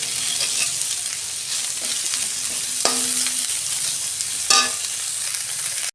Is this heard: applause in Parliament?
no